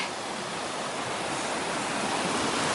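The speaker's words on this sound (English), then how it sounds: "Another stream extremely high." A swollen stream along a hiking trail after rain, a dense and unbroken rush of water heard steadily throughout at moderate level, with no voices.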